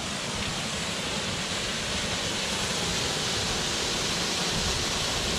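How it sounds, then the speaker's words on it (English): The top of a waterfall on a rocky forest trail at Jackson Falls in Shawnee National Forest, southern Illinois, gives a steady, full rush of falling water, loud and unbroken throughout, with no voices. "Sounds like this could be a"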